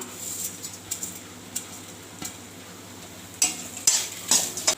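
Pepper and fenugreek stirred in a pan with coconut for bitter gourd pitlai, giving a soft sizzle with light scraping and clinks of a spoon against the pan, growing louder near the end.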